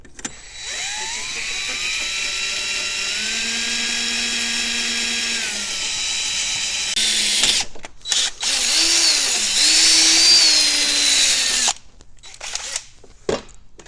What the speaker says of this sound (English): let's drill these 2 holes out